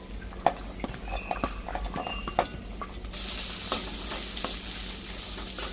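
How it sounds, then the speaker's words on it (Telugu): Chopped beans, carrot and cabbage stir-fry in a pan with a soft sizzle and repeated clacking spatula strokes, and the sizzle swells louder partway through as the vegetables hit the heat. "ఇప్పుడు మనం కట్ చేసి పెట్టుకున్నాం బీన్స్, క్యారెట్ ముక్కలు, క్యాబేజీ వేసుకుందాం"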